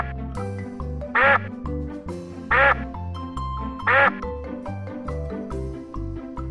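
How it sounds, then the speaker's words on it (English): Duck quacking among farm livestock, three loud, evenly spaced quacks standing out over a steady rhythmic backing beat. "duck."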